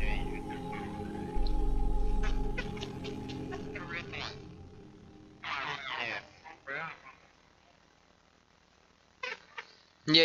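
A cat meows a few times at close range, short voiced cries scattered between people talking over a Black Ops 3 game session.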